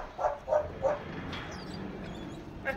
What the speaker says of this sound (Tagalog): Yung mga aso namin yan.